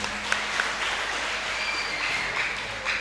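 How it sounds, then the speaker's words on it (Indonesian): A crowd at a madrasah graduation ceremony bursts into sustained applause, dense and steady hand clapping filling the hall with a few faint voices underneath. "Tepuk tangan."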